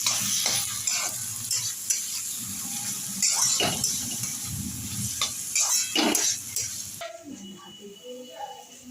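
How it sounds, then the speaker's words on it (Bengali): Shrimp are stirred into onion and garlic frying in a pan for a Bengali prawn chorchori, sizzling loudly with scraping spatula strokes and clatter, then a brief trickle of running water near the end. "এইবার আমি দিয়ে দেবো এর মধ্যে চিংড়ি মাছগুলো দিয়ে ভালো করে নাড়িয়ে দেবো"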